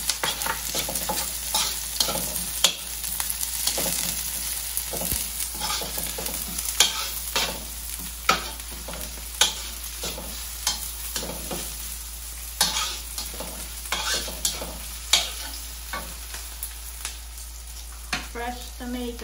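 Garlic and onion fry in a pan for puchero, a constant close sizzle with frequent sharp clinks and scrapes of stirring, under a low steady hum and with no talking.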